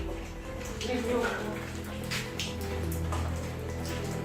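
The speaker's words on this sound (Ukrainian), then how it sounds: "Почалася нова злива." Heavy rain downpour, a dense steady patter of drops with water splashing, heard under a voice talking.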